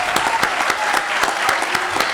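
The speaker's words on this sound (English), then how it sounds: "One more round of applause for Chief Saul Rodriguez." Audience applause at a police chief's badge pinning ceremony in El Segundo, a steady dense clapping from a crowd filling the whole stretch, fairly loud and even, with no talk over it.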